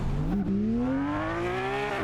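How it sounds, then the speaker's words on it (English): Internal combustion car engine revving up steadily, pitch climbing smoothly over two seconds, loud and close with a rich harmonic growl and no voices. "the spectacular harmony of an internal combustion engine"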